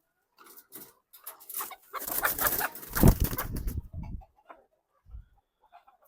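A desi chicken at a poultry farm clucks and squawks close by, with a burst of louder agitated cackling and wing flutter in the middle before it quiets down.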